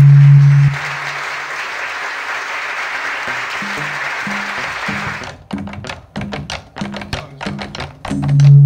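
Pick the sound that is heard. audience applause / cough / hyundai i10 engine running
audience applause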